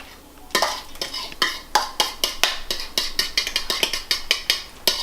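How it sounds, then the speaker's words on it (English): Wet ingredients stirred into dry ones with vanilla whey protein for a protein dough, a bowl and utensil giving a steady run of rhythmic scraping strokes about four per second, close and clear. "lightly combine everything together, being careful not to over stir"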